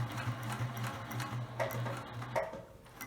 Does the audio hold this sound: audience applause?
no